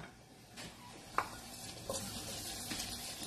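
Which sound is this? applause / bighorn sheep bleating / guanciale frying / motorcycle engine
guanciale frying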